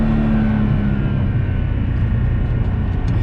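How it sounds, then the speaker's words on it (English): A loud, steady BMW E46 M3 engine drone fills the cabin, mixed with a low mechanical hum and rumble from poly-bushed transmission mounts, with no talking. "Transmission is poly bushed, so you can hear the noise from the mounts."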